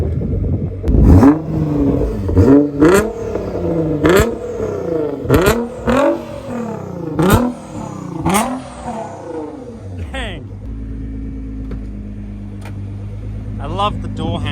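A stock 2009 Nissan GT-R R35 revs hard in repeated close, loud bursts, then settles into a steady idle as it pulls away, with people talking over it.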